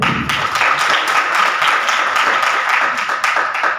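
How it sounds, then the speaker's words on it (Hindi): Audience at a human rights commission seminar in Pakistan breaks into sustained, dense applause, many hands clapping steadily and loudly throughout. "मैं तमाम दोस्तों से बर्दमस हूँ कि उसके लिए भरपूर तालियां बजाएं"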